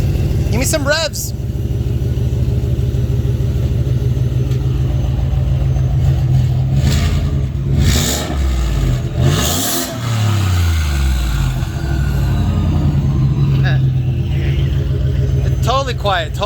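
A loud turbocharged 2020 Ford F150 pickup rumbles steadily and is revved several times. The engine roar rises and falls, with the biggest rev near the middle, while voices talk over it.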